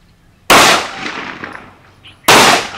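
Two loud, sharp gunshots from target shooting practice at a self-defence course, each a sudden crack with a ringing decay, spaced nearly two seconds apart.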